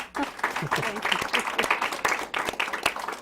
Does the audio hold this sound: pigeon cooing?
no